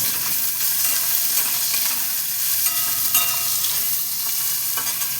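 Chopped tomato hitting hot oil in a pan for pabda fish curry, a loud, bright continuous sizzle with small crackles and stirring scrapes, close up and without talk.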